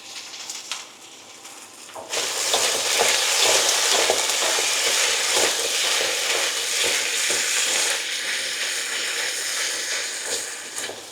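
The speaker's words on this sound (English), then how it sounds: "Next we'll brown off or cook these onions and the carrots." Onions and carrots sizzle in a hot pan for a pork stir-fry, a faint crackle at first that jumps to a loud, steady hiss after two seconds, with stirring scrapes throughout.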